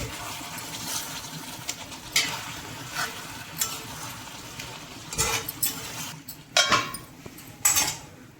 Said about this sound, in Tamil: லைட்டாக நடுவில் நம்ம இந்த மாதிரி கிளறி விடுவோம்.